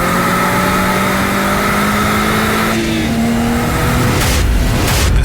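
Two BMWs, an E30 325is and an F30 340i, race flat out down a track straight, with loud sustained engine notes rising in pitch together before a shift, and no talk.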